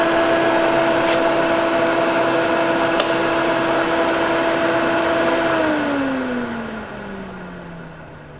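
Workshop fan running with a steady loud hum and a faint tick partway through, then winding down as its tone slowly drops and fades toward the end.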